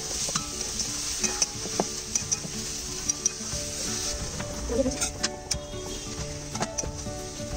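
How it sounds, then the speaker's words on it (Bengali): Khichuri with ghee is stirred in a cooking pot, giving a steady hot sizzle broken by repeated scraping clinks of a spoon against the metal. "এবার একটু ঘি দেবো, একটু নাড়িয়ে তারপর নামিয়ে দেবো।"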